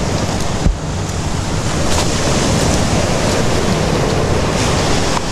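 Sea waves wash steadily against a shore in the dark at 4 a.m. near moored fishing boats, a continuous loud surf roar with wind buffeting the microphone and no talk.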